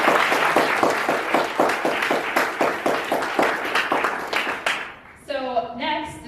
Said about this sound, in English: Please, everyone, let's give a big round of applause.